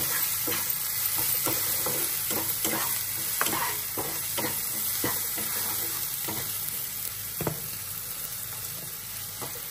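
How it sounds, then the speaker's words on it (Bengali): Spices with turmeric and chili powder frying in a pan, a dense steady sizzle broken by repeated scraping strokes of a spoon stirring, close and continuous with no talking. "আর একটু হলুদ গুঁড়ো দিয়ে তারপর ভালো করে কষিয়ে"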